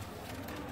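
Pigeons coo softly at a pigeon-flying show in Muridke, a low steady murmur of cooing birds heard faintly throughout at a distance.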